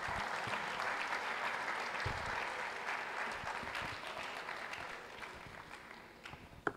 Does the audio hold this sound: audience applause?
yes